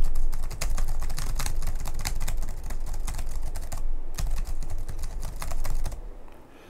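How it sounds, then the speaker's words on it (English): Fast, dense typing on a computer keyboard is picked up by a budget FiFine AmpliGame USB gaming microphone as close, crisp clicks in rapid bursts. A short pause comes near the middle, and the typing trails off at the end. "Let's hit the keyboard. See how it sounds."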